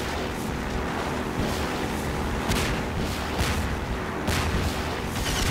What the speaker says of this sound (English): You can machine gun me all you want, but I'm gonna get in there.